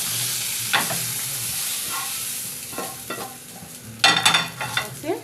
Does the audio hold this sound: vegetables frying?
yes